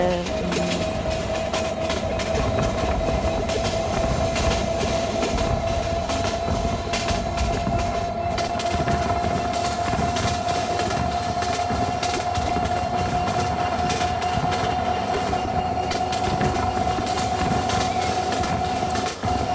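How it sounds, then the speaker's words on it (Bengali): Train in the Train Simulator Bangladesh video game running along the tracks, a loud continuous rumble and rattle with a sustained whine. "ট্রেন এখন সামনের দিকে যাচ্ছে।"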